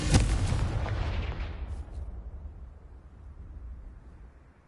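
Fire spell explosion in the video game Hogwarts Legacy: a sharp loud blast at the start, then a rumbling crackling decay that fades away over several seconds.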